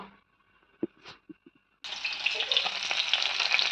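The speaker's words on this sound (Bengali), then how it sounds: "আগে পুঁটি মাছগুলো ভেজে নেই" A few soft knocks and clinks, then a sudden loud burst of hissing sizzle as small puti fish hit hot oil, crackling steadily to the end.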